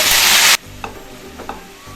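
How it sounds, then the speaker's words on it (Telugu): Washed gongura leaves hit hot oil with a loud, close burst of sizzling that cuts off abruptly after half a second, followed by quieter frying and a couple of light stirring clicks. "ఆయిల్ హీట్ అయ్యాక మనం కడిగి పెట్టుకున్నటువంటి గోంగూరను వేసేసుకోవాలి"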